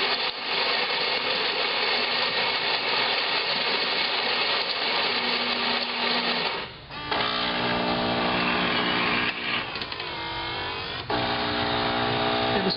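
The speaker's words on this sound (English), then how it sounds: "doing the grind, now it's doing the pre-infusion" Saeco Talea Touch superautomatic espresso machine grinding beans for a double shot and then pre-infusing, a loud continuous whirring grind that changes pitch and pauses briefly before resuming with a steady mechanical hum.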